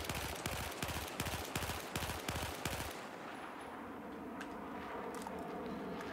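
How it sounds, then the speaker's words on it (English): Rapid bursts of rifle fire in Battlefield 4, a string of sharp shots in quick rhythm for about three seconds, then stopping abruptly into a low rumbling ambience. "Why don't we try firing at a slightly faster rhythm this time?"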